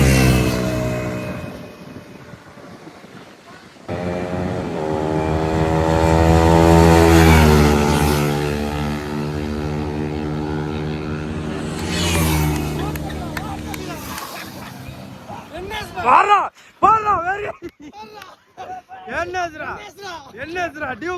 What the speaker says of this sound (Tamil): இப்போ நாங்கள் ஃபர்ஸ்ட் கியர் செகண்ட் கியர் மட்டும் த்ராட்டில் பண்ணி பார்க்க போகிறோங்க.